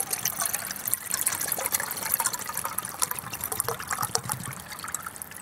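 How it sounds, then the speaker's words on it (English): Ice cold water pours steadily into a small metal cookset pot up to the 16-ounce mark for a solid-fuel stove, a close, continuous splashing trickle with bubbly gurgles and no talking. "we're going to fill this up to 16 ounces."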